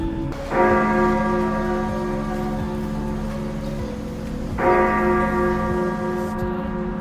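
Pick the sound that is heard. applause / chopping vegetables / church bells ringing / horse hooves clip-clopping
church bells ringing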